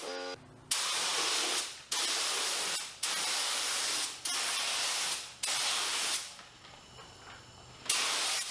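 A spray gun lays a primer coat on a 1985 Pontiac Fiero in repeated steady hissing passes of about a second each, separated by short pauses, loud and close with no talk.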